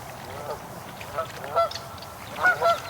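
Geese honk near hidden goslings outdoors, a few short, fairly close honks spaced irregularly over low background rustle.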